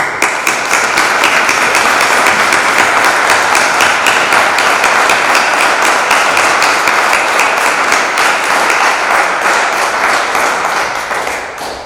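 At a municipal council meeting, attendees applaud the campaign members with loud, sustained clapping from a full room, its rhythm settling into a steady beat and tapering slightly near the end.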